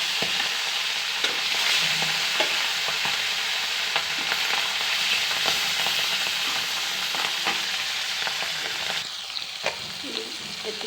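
Fish fries in hot oil for an Assamese fish curry with cauliflower and tomato, a dense, steady sizzle and crackle with occasional sharper pops, close and continuous.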